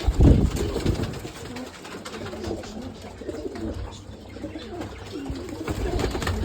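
Pigeons coo close by in soft, repeated throaty phrases, several overlapping, over low background noise.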